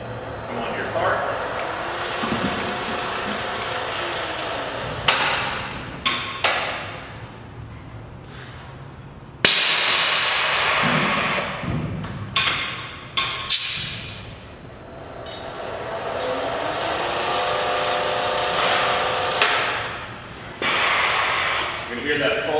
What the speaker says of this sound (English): You can hear that pulse occasionally, but that pulse is just the vacuum potentially losing